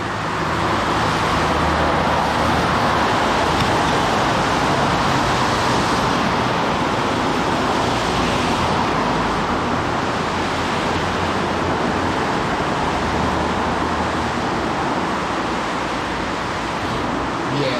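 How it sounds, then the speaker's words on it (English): Steady, dense roar of road traffic, loud and continuous throughout, with broadband rumble and hiss like vehicles passing close by. "Cars are loud as fuck."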